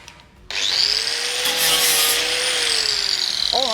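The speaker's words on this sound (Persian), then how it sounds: "من دیگه اینو سنباده میزنم" Sanding a fabricated car fender liner, a steady broadband rasping friction that starts abruptly and holds loud and close for a few seconds with a faint whine beneath it.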